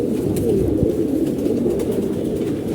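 Many pigeons coo together in a loft at a house in Mirpur, a dense, low, continuous murmur close by with no talking.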